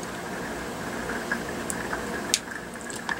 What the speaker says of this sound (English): And the rain starts, of course.